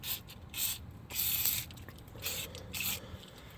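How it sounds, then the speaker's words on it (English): Penetrating oil is sprayed in four short bursts onto a seized front control arm bolt on a 2013-2016 Dodge Dart. The close hissing bursts are separated by brief pauses. "you're going to have to spray all this down because this is going to be stuck"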